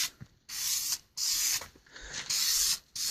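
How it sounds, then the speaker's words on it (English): Hissing test spray from an aerosol can of taillight tint paint, in several bursts of about half a second separated by short pauses, close by and fairly loud, with no talking. "Test spray."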